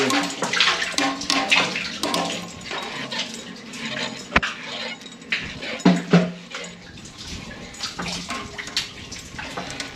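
Water sloshes and splashes inside a metal bucket raised from a deep well, with a sharp clank partway through and irregular swishing that rises and falls throughout.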